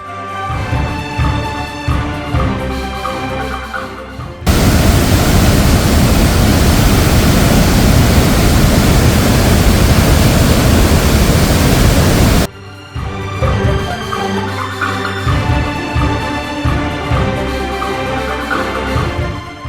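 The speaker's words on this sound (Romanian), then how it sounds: "Zgomotul de pe pontonul de lângă cascadă e de-a dreptul impresionant." Roar of a huge Norwegian waterfall carrying about 40,000 litres per second, heard up close from a pontoon beside it: loud, even rushing noise for about eight seconds, with music playing before and after.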